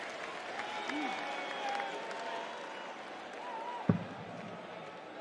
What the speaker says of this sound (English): the crowd in Copenhagen loving every second of it